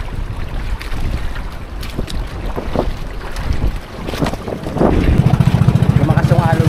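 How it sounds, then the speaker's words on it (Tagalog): Strong sea waves slap and wash around a small boat, close and loud, with gusty wind buffeting the microphone and a motor's rapid pulsing coming in toward the end. "Lumakas ang alon natin ngayon."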